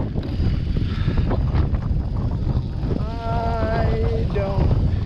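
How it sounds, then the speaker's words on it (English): Loud, constant cold wind buffets the microphone with a low roar, and a voice calls out briefly partway through, on the way to a truck trail. "it's cold and windy on this side."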